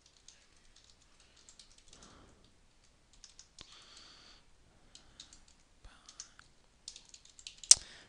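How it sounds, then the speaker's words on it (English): Typing on a computer keyboard, with scattered light clicks and short bursts of keystrokes building to a few sharper taps near the end, heard up close in a quiet room with no talking. "here we've just written our short little message to Jason"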